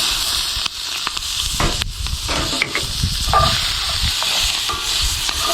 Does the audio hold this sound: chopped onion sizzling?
yes